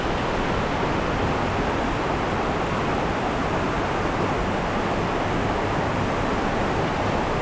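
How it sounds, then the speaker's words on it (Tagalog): A strong river current rushes steadily and loudly, a dense unbroken roar of flowing water that fills the whole stretch without pause. "malakas yung agos"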